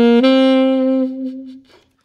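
A saxophone plays a short phrase from an improvisation lick: a couple of clear sustained notes, the last held and fading, played solo and close with no talk.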